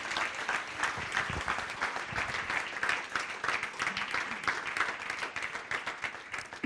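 A church congregation claps loudly and steadily throughout, a continuous crowd of hands with a few voices mixed in.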